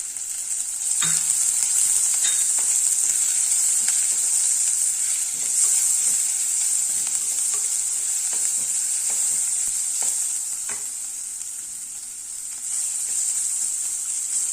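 Ginger-garlic paste sizzles in a hot pan for tomato rice, a loud continuous hiss up close with scattered stirring clicks and no talking.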